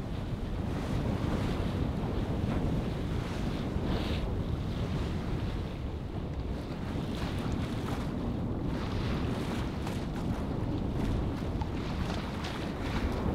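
Wind and sea rush steadily around a sailboat running under spinnaker in about 12 knots of breeze, with loud, continuous gusting and wave wash close to the microphone throughout and no voices.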